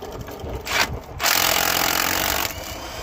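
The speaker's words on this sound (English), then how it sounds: "now we're gonna remove those two bolts that hold the caliper" A wrench works on the brake caliper bolts of a 2015-2021 Kia Sorento or Sedona, making close scraping and ratcheting sounds in short bursts, then a sustained grinding stretch.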